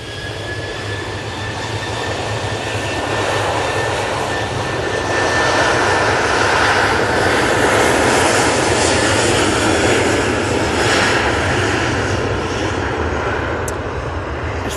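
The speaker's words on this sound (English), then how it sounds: "Ryanair is off to Belfast using the 737-800 for this flight" A Ryanair Boeing 737-800 takes off for Belfast, its jet engines building into a loud, steady broadband roar that swells and holds close by for the whole stretch, with no voices over it.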